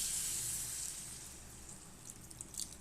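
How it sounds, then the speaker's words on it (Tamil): Water poured into eggplant curry frying in oil in a pan gives a broad, steady sizzling hiss that fades a little over a few seconds, with faint splashes near the end. "இப்போ தண்ணி கொஞ்சம் சேர்த்துக்கலாம்."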